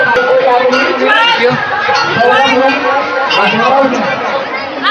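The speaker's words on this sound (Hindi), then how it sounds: "बहुत भीड़ है।" Dense crowd of pilgrims chattering at a Hindu temple around midday, a steady, close, overlapping babble of many voices with no single speaker standing out.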